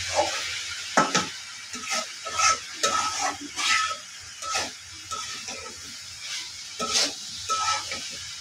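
Cauliflower sticks with beans and potato fry in hot oil, a steady sizzle broken by repeated stirring scrapes and clinks of the utensil against the pan, close and fairly loud.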